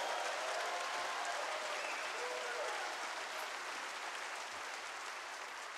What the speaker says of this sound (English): Everybody give him a hand clap of praise,